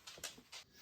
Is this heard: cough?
no